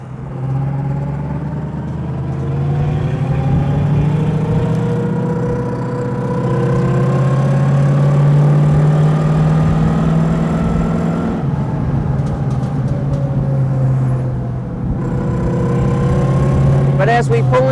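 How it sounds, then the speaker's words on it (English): Exhaust note of a 1929 DuPont Model G Speedster on a drive back to a museum: a loud, steady engine drone with a slight rise and fall in revs, someone talking continuously over it. "speak over the exhaust note."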